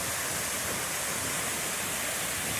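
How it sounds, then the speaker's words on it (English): Evolution Falls, a waterfall along the Pacific Crest Trail in a big U-shaped mountain valley, roars as a steady, dense broadband rush of falling water, loud and unbroken throughout with no voices. "this happens to be Evolution Falls"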